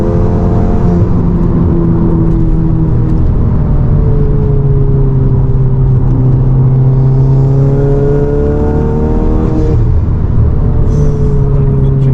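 A 500 BHP Volkswagen Golf GTI engine drones loudly from inside the car, rising and falling in pitch through several gear changes as it accelerates on a busy street, running on low boost.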